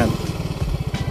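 A Yamaha Mio i125 scooter fitted with an RS8 CVT set and 1000 RPM spring runs close by, its engine giving a rapid low throbbing pulse that rises briefly in a short rev.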